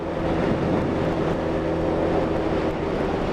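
Honda CBR1000F sports motorcycle fitted with an aftermarket exhaust, riding along on the road with a steady, continuous engine drone and roaring wind noise throughout.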